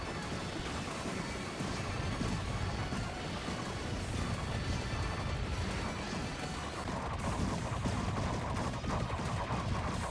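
Hand grenade explosions in the video game Vampire Survivors, a dense, continuous barrage of overlapping blasts and crashes that roars steadily without any break.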